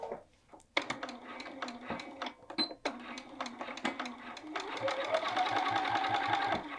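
A sewing machine stitches across a welt pocket on a Tamarack jacket, giving short bursts of rapid needle chatter separated by brief pauses, then a longer continuous run, fairly quiet and close.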